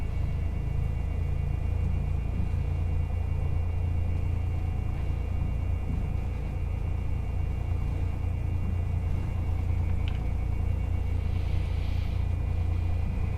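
Cessna 172 taxiing in a flight simulator game, a steady low engine drone and rumble running unbroken and evenly throughout, with no talking.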